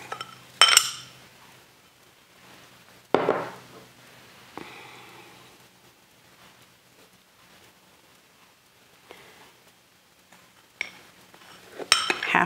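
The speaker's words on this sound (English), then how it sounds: "And then we stir it up." A spoon stirs taco soup ingredients, including taco seasoning and ranch dressing powder, in a pot, giving scattered metallic clinks and scrapes with quiet gaps between them.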